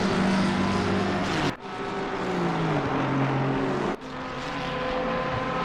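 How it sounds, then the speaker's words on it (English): GT race cars, a Ferrari and a Porsche among them, roar around Monza in Assetto Corsa Competizione, with a loud, steady engine drone that dips briefly twice as cars pass or shift, with no voices over it. "Looking now at the battle between a Ferrari and a Porsche going into the last corner."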